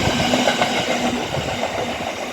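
A London Northwestern Railway train at Rugby station gives a steady low rumble and hum, like a train idling or rolling slowly at the platform, with wind noise and no talk.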